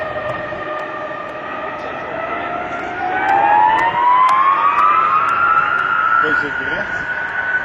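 A C-5B Galaxy military transport with 43,000-pound-thrust engines passes at a Dover AFB airshow, its rising whine and turbine roar swelling loud midway and holding, with people talking over it.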